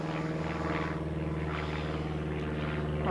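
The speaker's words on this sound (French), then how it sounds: "Un petit avion qui passe juste au-dessus" A small propeller airplane passes overhead during an indoor yoga session, a steady droning engine hum with throbbing tones that stays loud and continuous throughout, with no talking.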